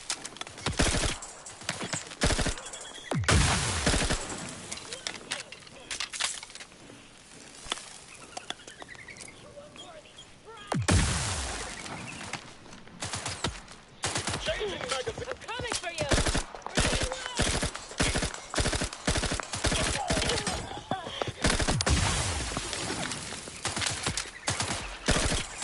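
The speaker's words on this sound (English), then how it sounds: "the Premium Moon. That's all it is, simple pistol." The Premium Moon, a simple pistol, firing in the video game Outer Worlds 2: many sharp single shots, some in quick runs and others spaced apart, loud and close over game ambience, with occasional talking.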